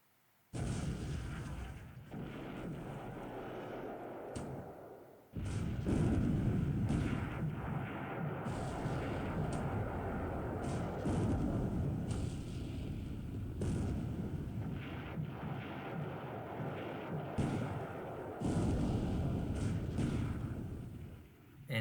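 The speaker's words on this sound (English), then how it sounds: "my destroyer is simply too broken already to really escape this barrage of 5-inch hits" Naval 5-inch gunfire hits on a destroyer in the War in the Pacific strategy game, a dense run of loud booming impacts and bursts that continues almost without a break.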